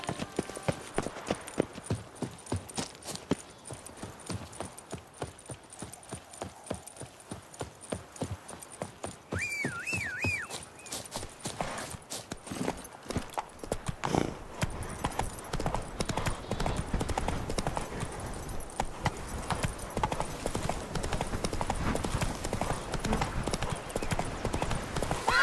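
Hooves of Roach, the horse in The Witcher 3, pounding in a fast steady gallop, close and loud throughout, with a brief whinny partway through and game music and sounds underneath.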